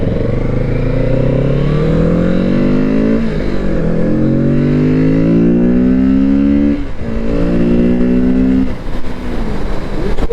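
Kawasaki Z650RS retro motorcycle cruising in sixth gear, a steady loud engine drone with rising and falling harmonics as speed shifts, close up and continuous for about ten seconds with no talking.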